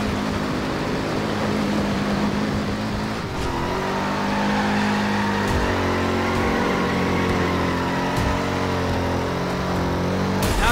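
A car engine revving hard and accelerating in the video game Driver San Francisco, a loud continuous roar with shifting pitch as the car is driven recklessly, with no talk.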